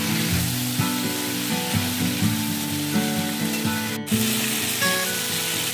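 Papaya and potato pieces fry in a pan for a Bengali fish curry, giving a steady close sizzle with stirring throughout, briefly cut off once near the end.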